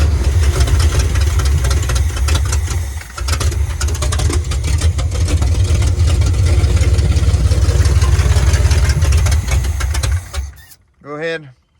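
A SquareBody Chevy truck engine runs after a dose of starter fluid, a loud rough low rumble close by that drops briefly, then cuts off near the end, with a voice calling out afterwards.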